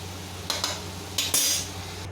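Pieces of taro root (arvi) fry in oil while being stirred: a low, steady sizzle broken by a few short scraping strokes of a utensil against the pan, no speech.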